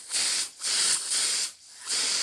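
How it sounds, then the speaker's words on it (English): Four short bursts of hissing spray as air filter oil is sprayed onto the inside of a UNI foam air filter for a CFMOTO ZFORCE 800 EX, each burst loud and close with brief gaps between. "So now we got to spray on the inside as best we can."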